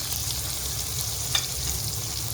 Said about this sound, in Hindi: अदरक लहसुन को अच्छी तरह फ्राई कर लेने के बाद इसका कच्चापन ख़त्म हो तो इसमें एक बड़ा टमाटर जो ग्राइंड किया था वो डाल दीजिए